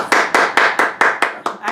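Audience clapping at a city talk-show event, a series of sharp, evenly spaced loud claps close by, roughly four per second.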